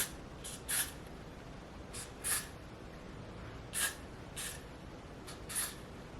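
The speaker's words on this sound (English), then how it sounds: "And then I just spray just a little bit" Short hissing bursts of Got2b Glued Blasting Freeze hairspray, several quick sprays in an uneven rhythm, close to the microphone in an otherwise quiet room.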